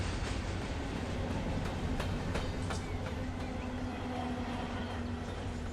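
A CSX freight train rolls on in a train simulator game, a steady low rumble and rolling wheel noise with a few faint clicks of rail joints throughout.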